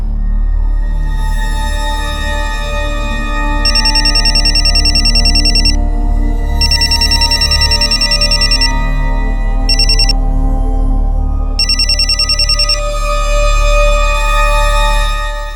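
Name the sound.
phone ringing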